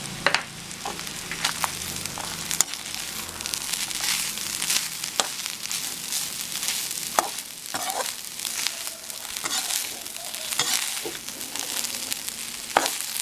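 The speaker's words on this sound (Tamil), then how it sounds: "ஒரு 2 நிமிஷம் நல்லா வதங்கட்டும்." Steady sizzling and frying of coconut sautéing in a pan over medium flame for sambar, with occasional stirring scrapes, close and continuous throughout.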